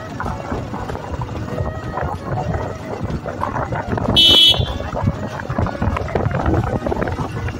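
A motorbike horn honks in a short burst on a busy road in Kashmir, loud and close over steady traffic and engine noise.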